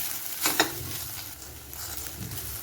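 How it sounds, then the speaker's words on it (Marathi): Okra masala (bhendi) stirred in a pan over low gas, a short scraping stir near the start over a soft continuous sizzle of frying. "आता हे हलवून घेऊया।"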